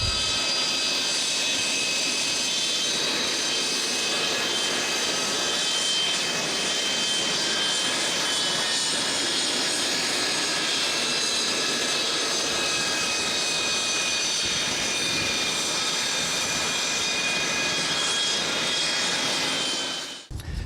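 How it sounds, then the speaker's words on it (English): L-39 Albatros military jet trainer at the Canadian International Air Show, a steady loud jet engine roar with a high whine held for about twenty seconds and no talking. "The plane we fly is this one, the L-39 Albatros."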